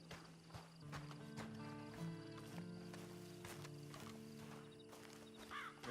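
Horse hooves clip-clop at a steady walking pace amid background music in the video game Red Dead Redemption 2, with a short whinny near the end.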